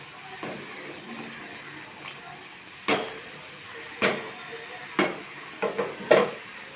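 Afghan paneer gravy being stirred in a pan, a spoon scraping and knocking against the metal in a few sharp strikes spaced a second or so apart over a soft background sizzle, with no talking.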